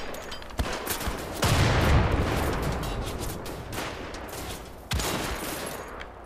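Gunfire in the video game Wolfenstein: The Old Blood: loud, dense bursts of shots crackle continuously, with sharp heavy reports near 0.6, 1.4 and 5 seconds standing out over the rolling battle noise.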